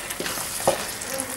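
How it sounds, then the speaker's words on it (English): Fresh strawberries cook in a pan of risotto, a close, steady sizzle with a brief stirring scrape, heard on its own without speech. "So, and now I add my strawberry. And I let cook another 2 minutes."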